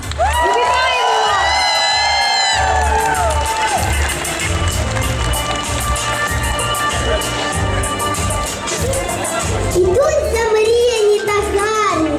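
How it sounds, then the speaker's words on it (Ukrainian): A crowd at a school opening ceremony cheers, whoops and claps to welcome a first-grade class, with children shouting and a noisy, steady ovation. Voices ring out over it, and a brief music-like tone sounds near the end. "Привітаємо гучними оплесками перший В клас"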